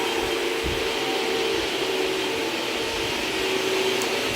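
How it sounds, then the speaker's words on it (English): A vacuum cleaner runs steadily in a house during a move, a constant broadband whoosh with a faint motor whine that carries on unbroken, heard at moderate level. "Stuart's still vacuuming, you can hear him"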